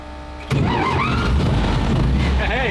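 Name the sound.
WWII tank engine starting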